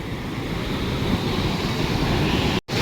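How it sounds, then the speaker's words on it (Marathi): A waterfall near Kas lake runs in full flow, producing a loud, constant broadband roar that cuts out abruptly for a moment near the end. "कारण धबधबा पूर्ण चालू आहे."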